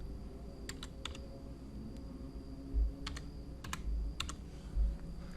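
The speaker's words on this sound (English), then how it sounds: "I'm just going to type the word story." Quick bursts of typing on a computer keyboard, a few short clusters of key clicks separated by pauses, close and fairly quiet over a low steady room hum, with no voices.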